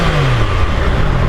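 A Triumph Tiger Sport 660 three-cylinder motorcycle hums steadily on the move, its engine drone close and continuous beneath heavy rushing wind noise.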